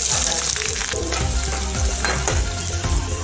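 Chopped onion hits hot oil in a pan for an egg curry, a loud close continuous sizzle with crackling pops and occasional utensil scrapes, no talking.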